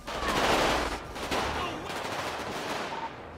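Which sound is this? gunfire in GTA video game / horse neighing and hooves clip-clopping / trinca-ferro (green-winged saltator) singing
gunfire in GTA video game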